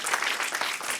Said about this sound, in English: a final round of applause to them